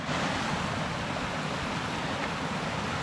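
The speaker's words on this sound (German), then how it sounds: "So, und dieser kleine Bach, den wir hier sehen," A small stream, the Bäumbach, flows steadily outdoors on a hiking trail near Egenhausen, a constant close wash of rushing water with no voices.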